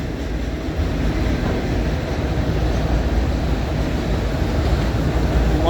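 A CSX Q216 freight train with a shiny rebuilt CM44 locomotive rolls past on the Keystone or Newcastle sub in Pittsburgh, a steady loud rumble of wheels and engine running continuously throughout with no pauses.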